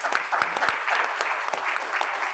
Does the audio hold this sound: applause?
yes